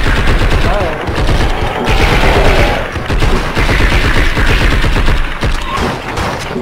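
Dense, continuous gunfire in the video game Blood and Bacon, loud bursts overlapping with crashes and booms, with players talking over it.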